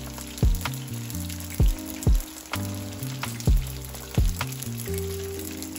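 Egg rolls fry in hot oil with a soft, steady sizzle underneath loud background music with a thumping beat.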